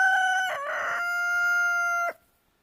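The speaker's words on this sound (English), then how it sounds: "that's one of our 3 roosters" A rooster crows once, loud and close, a long drawn-out call that cuts off abruptly, followed by quiet.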